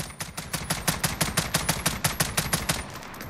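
FAMAS shots in Call of Duty Modern Warfare ring out in a fast, evenly spaced string of about twenty sharp cracks, loud and close over a steady background.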